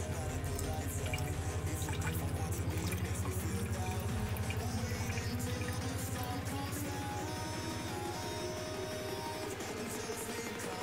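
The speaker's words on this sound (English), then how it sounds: "now pour the ice water slowly over the sugar cube so it will dissolve into the rest of the drink" Ice water trickles slowly over a sugar cube into a glass of absinthe, a steady close pour with dripping patter and no voices.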